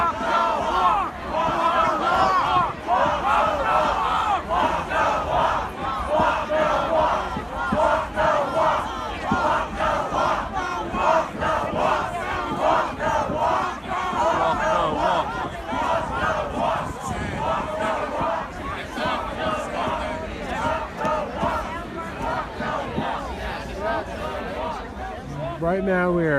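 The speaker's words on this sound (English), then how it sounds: "Right now we are hearing the crowd" A large protest crowd outside the Capitol chants and shouts together, a loud, dense roar of many voices that swells and pulses steadily throughout, with rhythmic shouted chanting close by.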